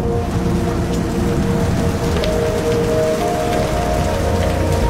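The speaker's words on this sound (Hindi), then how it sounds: "इस तेज बरसात का मजा लेने का मौका सुपर प्राइड को भी मिला।" Heavy rain pours steadily across the Serengeti savanna in May, a loud dense hiss of drops hitting the ground with no break, and a faint low tone hums underneath.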